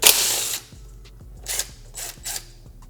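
A ratchet wrench clicking as it loosens a 10 mm head screw on a 2022 Honda Grom airbox, a burst of noise first, then several quick clicking strokes, close and fairly quiet.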